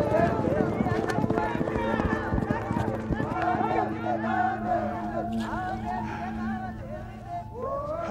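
Horses gallop with riders charging in a lance-combat contest in Ethiopia, the clip-clop of hooves rumbling steadily amid crowd noise and people talking.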